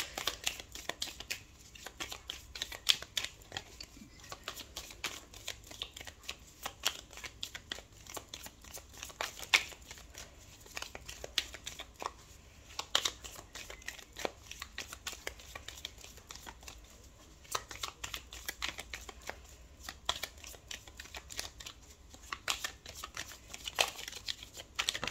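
Tarot cards being shuffled and dealt out one after another for a reading, a continuous soft papery riffling and light slapping that runs steadily close by with no voices.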